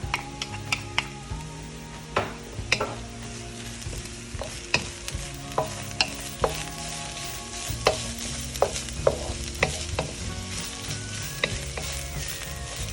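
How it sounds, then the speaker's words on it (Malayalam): Yellow pepper stirred into mushroom thoran frying in a pan over a low flame, Kerala style: a steady soft sizzle broken by frequent scraping spatula clicks against the pan, close and moderately quiet, with no talking. "ഓക്കെ, ഇനി ഞാൻ ഈ യെല്ലോ പെപ്പർ ആഡ് ചെയ്യുവാണ്."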